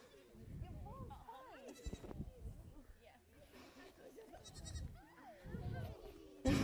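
Goats bleat repeatedly during an outdoor goat yoga class in Tampa, their wavering calls rising and falling at moderate distance while an instructor talks over them and a sudden knock lands at the end.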